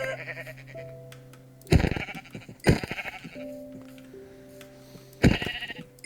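Several sheep bleat in the Minecraft video game, the loud cries coming in three separate bursts over a steady, sustained background tone.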